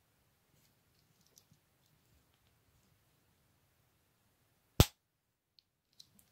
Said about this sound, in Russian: Викториноксовский щелчок.